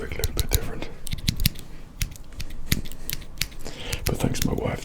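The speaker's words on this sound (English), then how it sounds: "these scissors obviously aren't for cutting long hair" Small household scissors, not meant for long hair, snipping close and crisp in quick repeated cuts with an irregular rhythm, a soft whispery voice faintly underneath.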